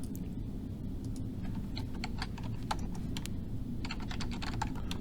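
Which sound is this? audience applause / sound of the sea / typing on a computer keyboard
typing on a computer keyboard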